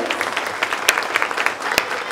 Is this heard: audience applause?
yes